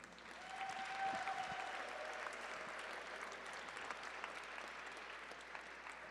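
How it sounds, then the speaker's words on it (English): An audience at a national gala applauds Gabe with sustained, moderately distant clapping that holds at a fairly even level for several seconds, lightly textured by individual claps. "How about one more round of applause for Gabe?"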